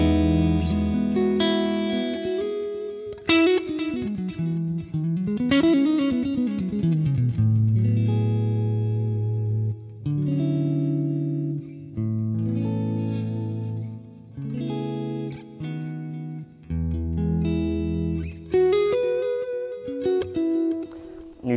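Clean electric guitar tone through a Boss Katana amp, with chords and single notes ringing out continuously and steadily with a little shimmer of effects, no voice over it.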